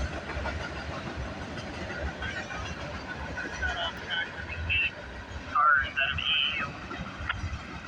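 Trains pass at a triple meet on a railfanning outing: a steady rumble and clatter of rolling cars runs throughout, with brief high squealing tones midway and faint voices in the background.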